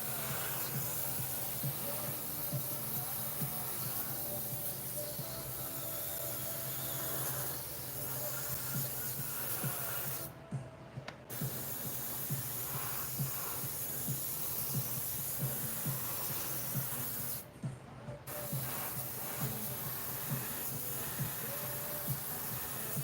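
An airbrush hisses steadily while spraying paint on a model, a continuous close airy spray with two brief breaks, the second near the end, under faint background clatter.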